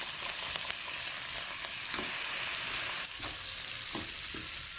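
Onion frying in a hot pan with fish sauce: a loud, continuous sizzle with occasional stirring scrapes and pops, close up and with no voices.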